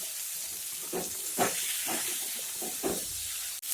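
Cauliflower and potato pieces frying in hot spiced oil, a steady hiss and sizzle running throughout with a few louder crackling bursts near and clear, no talking.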